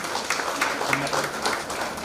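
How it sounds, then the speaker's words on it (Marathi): An audience at a Women's Day award ceremony in Niphad claps in a dense, continuous patter of hands that holds fairly steady and close throughout. "आपण जोरदार टाळ्या वाजवू"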